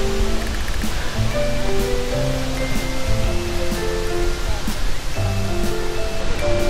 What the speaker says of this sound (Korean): 그 밑에서 봤던 폭포를 위에서 지금 내려다봅니다.